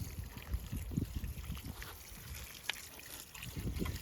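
Water trickles and splashes onto spring garden plants in a steady, soft outdoor pour, light gurgling spread across the whole stretch.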